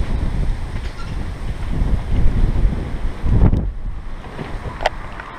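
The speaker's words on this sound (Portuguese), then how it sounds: "O vento tá 80 km por hora." Strong wind at about 80 km per hour roars continuously against the microphone near a parked car outdoors, with loud buffeting gusts and a rough, rumbling rush that swells and dips throughout.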